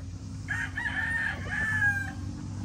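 Hens, two years old and including gray and white Kelso fowl on a farm, let out a drawn-out, rising call close by, with faint clucking and low background hum around it.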